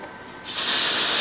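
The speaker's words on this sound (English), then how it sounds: "Also maybe some Loctite or something. Which is simple as just giving a little spray both sides" A spray can of Loctite hisses in one sudden, steady, close burst after a moment of quiet, used while fitting a roof top tent to a vehicle.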